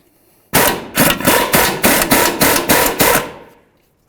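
A rapid burst of about eight loud, evenly spaced hammering impacts from an impact wrench or tool breaking loose a front wheel hub nut with a 19mm socket on a 2011-2016 Hyundai Elantra, close and sharp, then silence.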